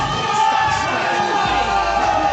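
A dense crowd at a wrestling show cheers and shouts steadily, loud and continuous throughout, with no single voice standing out.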